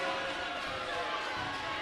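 Steady crowd noise fills the gym at a high school boys basketball game against West Bridgewater, a continuous murmur of many voices without distinct cheers.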